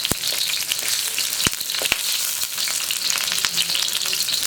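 The white part of spring onion fries in hot oil for sweet corn fried rice, a loud, dense, close sizzle with a few quick scraping stirs and sharp taps.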